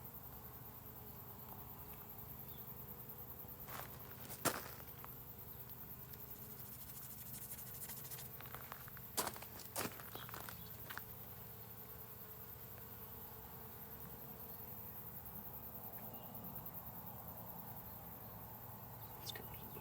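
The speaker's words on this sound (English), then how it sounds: "Honeybees out." Honeybees forage around flowers outdoors, a faint, steady insect hum over quiet background ambience, with a few brief louder passes.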